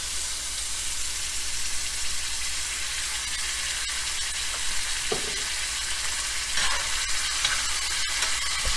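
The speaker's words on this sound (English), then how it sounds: "I'm going to add the sauce just to deglaze the pan" Marinara sauce hisses and sizzles as it deglazes a hot meatball pan, a steady close sizzle with occasional scrapes and clinks of a utensil stirring.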